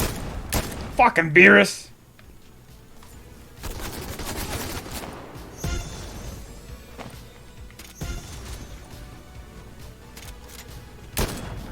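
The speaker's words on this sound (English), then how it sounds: "Oi! Someone's shooting me." Video game gunfire, a few sharp shots and bursts scattered through the clip against a quiet background, with a person shouting and talking over it.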